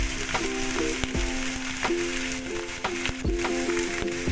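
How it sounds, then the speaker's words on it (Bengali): Ghee sizzles steadily in a hot pan, a continuous bright crackle with occasional sharp pops and clinks, heard close up with no talking. "এর মধ্যে আমি ঘি দিয়ে দিচ্ছি।"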